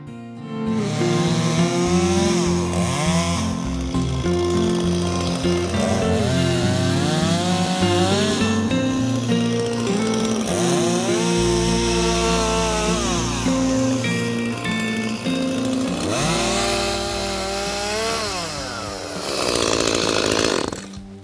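Chainsaw ripping a two-metre log lengthwise to make a slab, loud and close, running continuously with the engine pitch rising and falling as it bogs into the cut and revs free.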